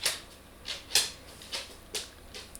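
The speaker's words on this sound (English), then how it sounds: "can hear my dog clipping in the background yet again" A pet dog's claws click on a hard floor behind the room, a sparse run of five or six light, separate ticks about half a second apart, faint and distant with no talk over them.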